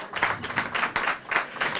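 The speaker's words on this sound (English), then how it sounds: "A round of applause, please." An audience at the Strategic Storytelling book launch at 1880 Singapore breaks into brief, lively applause, a close burst of clapping lasting under two seconds.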